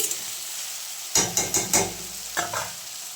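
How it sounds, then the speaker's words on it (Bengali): Onion, tomato and carrot fry for poha in a pan, a steady close sizzle broken by several quick stirring scrapes in a short rhythmic burst, with no voices. "সবজিগুলো ফ্রাই করতে দিয়ে দিয়েছি। পেঁয়াজ, টমেটো, গাজর সব দিয়ে দিয়েছি।"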